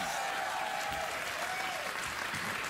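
A studio audience at a late-night talk show applauds, a dense, steady burst of clapping heard close and continuous throughout.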